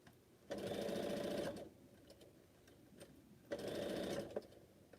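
A sewing machine stitches quilt pieces in two quick bursts of steady, fast mechanical whirring, with quiet pauses and faint clicks between them, close and fairly soft.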